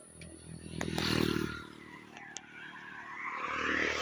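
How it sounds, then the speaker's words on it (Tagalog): A motorcycle passes behind a pedestrian on a busy street, its engine rumble swelling and fading quickly amid traffic noise, then building again toward the end. "At may motor sa likod."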